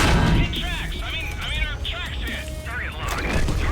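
In a World of Tanks battle with a TL-1 LPC, booming shell hits and gunfire sound from the game while someone talks loudly over them throughout.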